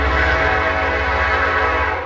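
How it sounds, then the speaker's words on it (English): An empty coal train rolls past a railfan spot in Chesterton/Porter, Indiana: a loud, close, continuous rumble and metallic roar of wagons that holds steady across the whole stretch, with no voices. "This is a empty coal train, I believe, out of West Olive."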